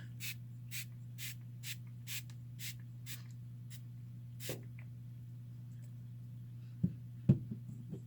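A series of short, soft bursts from a skincare spray bottle in quick succession over a steady low hum, followed by a few faint handling clicks.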